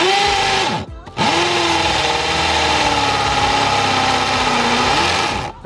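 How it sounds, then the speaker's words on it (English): A hammer drill with a 1-inch concrete bit, on hammer setting, drills through cinder block, loud and close with a steady whining motor drone, briefly stopping once near the start before grinding on continuously. "We've got ourselves a 1-inch concrete bit and nice hammer drill to punch right through here."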